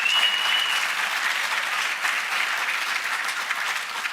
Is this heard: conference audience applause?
yes